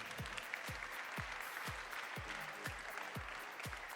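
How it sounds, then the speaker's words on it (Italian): An audience at the Gran Galà ItalModa fashion show applauds the models, a faint steady patter of clapping under a repeating thumping music beat. "le congediamo con un bel applauso"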